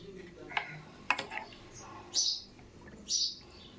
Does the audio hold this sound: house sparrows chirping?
yes